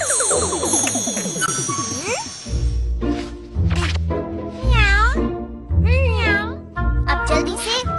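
Doraemon, an animated cartoon character, imitates a cat with a string of loud, drawn-out meows in a rising and falling voice. Cartoon sound effects come before the meows, and the meows follow one another with short gaps.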